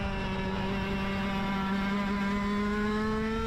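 A car laps a short race track on older tires, its engine a steady droning hum with a slowly rising pitch, fairly close and heard alone.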